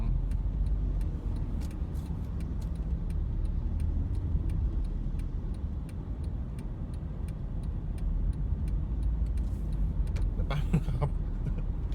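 Interior of a car while driving, a steady low engine and road rumble throughout with a regular ticking like a turn signal, a few faint rattles near the end.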